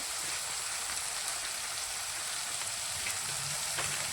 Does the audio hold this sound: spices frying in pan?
yes